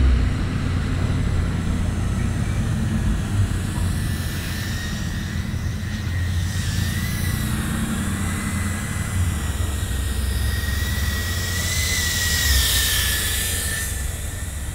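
A Scorpion 80HD cinewhoop FPV drone flies continuously, its small propellers giving a steady high whine with a rising and falling tonal pitch over a broad rushing hum throughout, with no voices.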